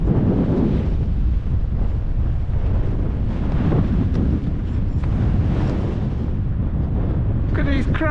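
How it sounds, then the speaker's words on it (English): Strong, cold wind on a fell in the Yorkshire Dales buffets the microphone in heavy, continuous gusts, a loud low roar throughout with a brief voice near the end. "Cold and windy."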